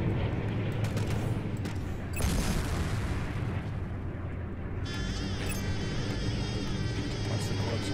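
Rapid gunfire and heavy blasts from a space combat video game, Strike Suit Zero, dense and loud throughout with sustained bursts and a layer of whining energy weapons in the second half.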